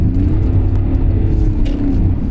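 A BMW E39 530d diesel drives while warming up its tyres, its engine a loud, steady low rumble heard from inside the car, with faint rattles and no talking.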